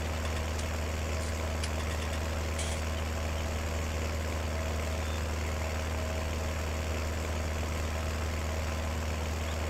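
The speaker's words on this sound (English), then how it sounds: "I think I've got a muffler on this tractor. Kind of a loud guy, isn't it?" A tractor in Farming Simulator 19 idles with a loud, steady, low engine drone that holds constant throughout, with faint clicks early on and no voices.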